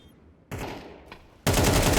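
Gunfire in a Counter-Strike match: a burst of shots starts at half a second, and a louder, dense volley takes over for the final half second, close and sharp.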